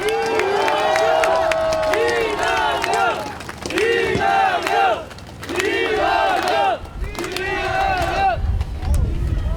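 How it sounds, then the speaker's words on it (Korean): Crowd at a Korean election campaign rally welcoming a political leader, loud rhythmic chanting and cheering in repeated bursts with clapping underneath, many voices shouting together close by. "큰 박수로 환영해 주시기 바랍니다"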